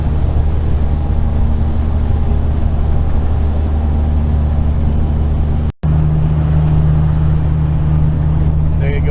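Steady, loud drone of a V10 Ford E350 van's engine pulling up a mountain grade at about 60 mph, with road and wind noise, a brief dropout partway through and a deeper hum after it.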